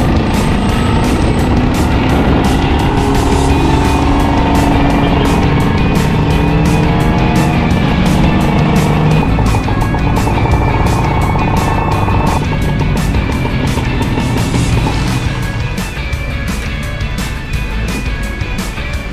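The engine of a vintage Vespa GS-160 scooter drones steadily and loud while riding, mixed with wind rush and road noise, its pitch shifting slightly as the rider changes speed.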